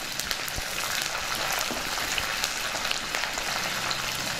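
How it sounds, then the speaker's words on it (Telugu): Tempering spices sizzle steadily in hot oil in a pan with green chillies and curry leaves for semiya pulihora, a dense, continuous hiss heard close up and alone. "పోపు దినుసులు బాగా వేగాయి, ఇప్పుడు పచ్చిమిర్చి వేసుకుందాం. ఇప్పుడు కరివేపాకు కూడా వేసుకుందాం."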